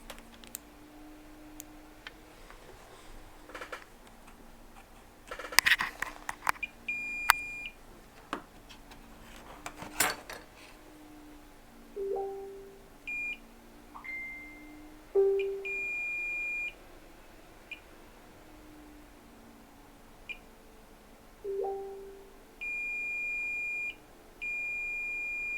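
A multimeter in diode mode on an iPhone logic board gives short, clear beeps, some rising in pitch and some held flat, spread across a quiet stretch with a few faint clicks of probes and taps.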